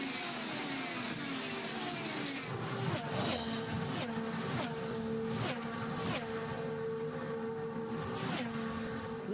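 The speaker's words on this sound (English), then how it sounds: "Love the sound that you get as well from these cars as they fly by down at turn 3." IndyCar race cars at Indianapolis during Indy 500 practice stream past turn 3, a steady high-pitched engine roar with repeated sharp pass-bys and Doppler swoops, loud and continuous with no talk.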